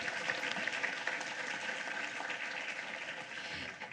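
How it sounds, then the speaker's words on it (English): A room applauds EPISD board members at a regular school board meeting, a steady, fairly faint wash of clapping from a crowd lasting a few seconds. "Let's give one more big round of applause for all the hard work and dedication that your EPISD board"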